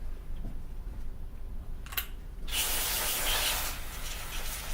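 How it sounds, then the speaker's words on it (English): Cleaning spray hisses onto the cylinder of a Paslode IM65 trim nailer. A short puff comes first, then a longer, loud, steady spray blast up close. "Once I've sprayed that, the power of the spray will blow away any dust"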